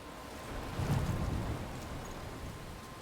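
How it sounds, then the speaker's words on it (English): Thunderstorm rain in the game Life is Strange, a steady dull rumbling wash of downpour that swells briefly and then settles into a continuous low roar, with no voices. "I'm trapped in a storm?"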